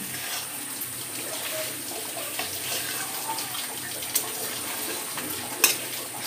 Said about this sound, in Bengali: আমি এর মধ্যে এক বাটি জল দিয়ে দেব